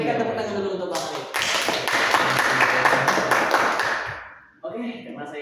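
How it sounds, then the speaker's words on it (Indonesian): An audience at an Indonesian youth podcast event bursts into applause, a dense burst of clapping that swells for about three seconds and fades, with a host's voice speaking before and after. "Kita berikan tepuk tangan dulu untuk Bang Alif."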